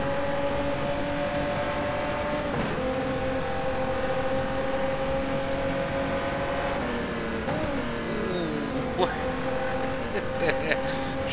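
Ferrari 512 S race car engine in the rFactor 2 racing game, a loud sustained engine whine that shifts pitch with gear changes and braking over a bumpy track, with someone talking over it.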